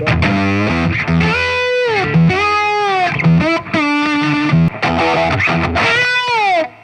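Electric guitar played through heavy, gritty distortion, with sliding sustained notes and bends in phrases separated by brief pauses, loud and close.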